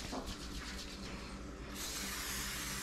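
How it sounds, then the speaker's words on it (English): A short hiss of cooking spray onto a baking pan bursts out and holds steadily for about a second, after some faint clicking and rustling. "So we're just going to use some pan spray."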